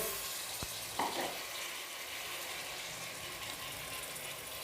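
Carrots and potatoes fry in a pan for vegetable pulao, giving a steady, fairly quiet sizzle throughout with a couple of brief clicks from stirring near the start, and no voices.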